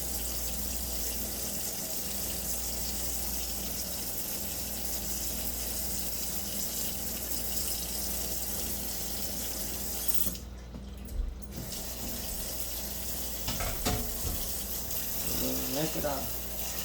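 Tap water runs steadily into a bowl of rice being rinsed, a constant close hiss with brief clatter and handling noises near the end.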